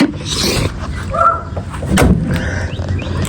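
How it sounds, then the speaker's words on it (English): Dogs bark nearby outdoors while a modified Honda Civic coupe project car sits parked. A few short barks and yips sound over background noise, with one louder bark burst near the middle. "Man, these dogs keep barking."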